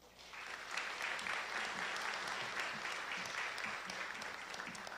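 Audience applauding a speaker at the end of an inaugural university lecture, a steady broad wash of clapping from many hands that rises quickly and holds fairly loud for the whole stretch.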